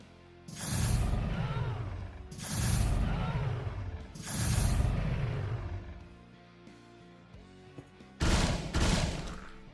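Short bursts of gunfire in the video game Quasimorph: four distinct loud volleys, each a quick cluster of shots with a fading tail, separated by pauses of about two seconds.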